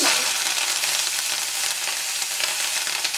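Buttermilk chillies and curry leaves fry in hot oil with a loud, steady, crackling sizzle that fills the whole stretch without pause, close and bright, with no voices over it.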